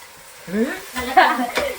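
Ground tomato hits a frying quail curry in a home kitchen, bursting into loud sizzling that swells in waves as a spoon stirs through it; a voice murmurs briefly beneath the crackle.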